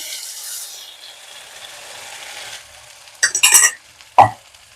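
Ground masala paste goes into a pan after the tempering and ginger-garlic paste for an egg curry, a soft sizzle fading before a few sharp scraping stirs and a clunk near the end.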